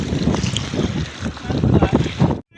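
River water slaps and splashes against a small boat on the Sindh river in rhythmic surges, with wind rumbling on the microphone and a voice speaking under the noise until a brief silence.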